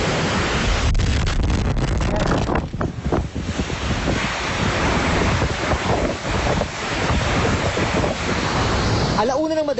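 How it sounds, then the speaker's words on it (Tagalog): Strong typhoon wind during Typhoon Lawin in northern Luzon, a loud, constant roaring buffeting with gusty surges and heavy microphone rumble, a shrill whistle rising near the end. "Tumagal ang sobrang lakas ng hangin hanggang alas 4 ng umaga."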